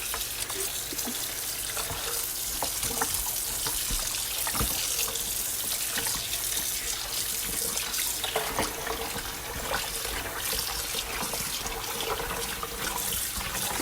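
Tap water runs steadily into a sink while raw chicken is washed for a mojito lime rotisserie marinade, a constant close splashing hiss with occasional clatters and no talk.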